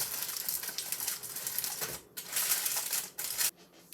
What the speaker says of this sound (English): we're going to take tin foil and we're going to cover the meatloaf, or lentil loaf, with our tin foil